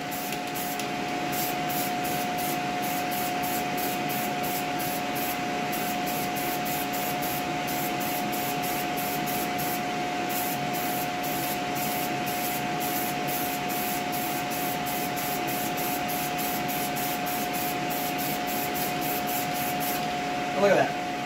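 Continuous hiss of a spray can coating a Guitar Hero guitar faceplate, a steady, close, even stream lasting throughout with a faint tone underneath and a brief clatter at the end.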